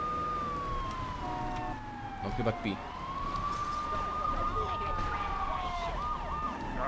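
A police car siren from the video game GTA III wails in a steady rising and falling tone throughout, loud and close, with someone talking over it.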